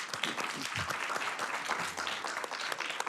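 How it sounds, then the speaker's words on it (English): Audience applause at a Sacramento city council meeting, with a steady crowd of clapping hands that holds at a moderate level throughout. "I'd like to just give you all a hand clap as well,"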